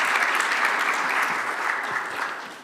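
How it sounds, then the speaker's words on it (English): Audience at a citizen science conference in Berlin applauds a speaker, a dense, even roar of clapping from many hands, steady and fairly close, tapering slightly at the very end. "yeah, big applause for her."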